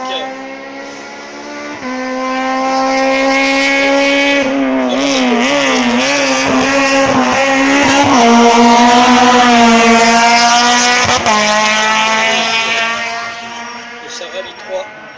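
A Peugeot 206 race car in group F2000 climbs the Quillan hill climb course, its engine revving hard and rising through the gears, loud and fairly close, as a French announcer talks over the sound.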